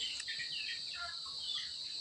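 A small turkey gobbles in a quick rattling burst, moderately close, over a constant high-pitched hiss of background noise.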